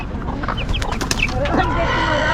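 Chickens clucking close by in short, choppy bursts, with a low rumble of background noise throughout.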